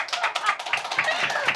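A small audience claps briefly in a live show setting, a quick burst of close, sharp hand claps lasting under two seconds.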